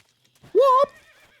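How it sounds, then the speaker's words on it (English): A horse in the Metal Gear Solid 3 video game gives a single short, loud whinny, clear and close, trailing off into faint ambience. "Why did I just hear a horse?"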